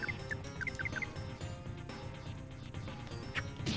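Guard geese give a few short honks early on, high nasal calls set against a dense, loud background of music-like noise and clatter, with no clear talk.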